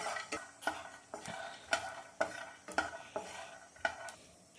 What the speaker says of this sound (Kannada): 2 ಸ್ಪೂನ್ ಶೇಂಗಾ ಕಾಳು ಅಂದರೆ ಕಡಲೆ ಬೀಜವನ್ನು ಹಾಕಿ ಚೆನ್ನಾಗಿ ಸ್ವಲ್ಪ ಬ್ಲ್ಯಾಕ್ ಕಲರ್ ಬರೋವರೆಗೂ ಹುರಿದುಕೊಳ್ಳಬೇಕು